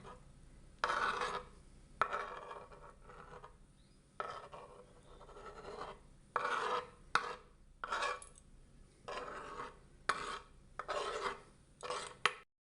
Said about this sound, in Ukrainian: Яйця треба на грубій терці і відправляємо до посудини.